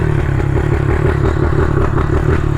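A pit bike engine runs steadily while the bike is ridden, giving a loud, close, buzzing mid-pitched drone that holds level throughout, with no voices.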